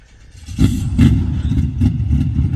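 A car revving on a backyard race track, a low rumbling engine rising in short bursts with some clatter, fairly loud and close, no talk.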